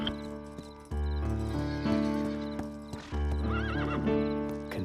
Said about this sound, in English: Go bring me my horse.